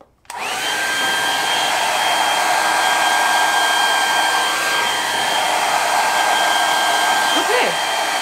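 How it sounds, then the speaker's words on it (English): A compact travel blow dryer kicks on and runs with a loud, steady whooshing roar and a faint high whine, holding constant for several seconds before a brief shift near the end. "This is a great travel blow dryer."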